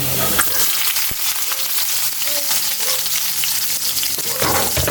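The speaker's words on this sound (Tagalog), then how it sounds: "Ilagay na natin yung bawang." Garlic sizzles in hot oil alongside ginger in a pan for squid adobo, a steady loud frying hiss with occasional stirring clatter, close and without talk.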